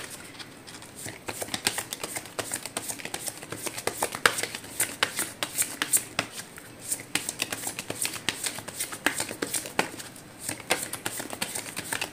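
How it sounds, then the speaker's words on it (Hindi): Tarot cards are shuffled by hand at close range, a continuous crisp riffling and tapping that pulses in quick bursts throughout. "मैं फिर से लूँगी कार्ड, सब"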